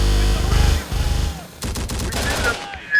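Rapid automatic fire from a minigun in the video game Terminator Dark Fate: Defiance, a loud continuous burst of gunfire that runs through the clip, then breaks into sharp separate shots over heavy low rumble.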